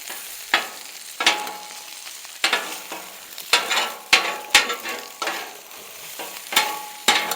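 Ingredients being mixed on a hot griddle, repeated scraping strokes of a spatula roughly every half second to a second over a steady sizzle, close and alone.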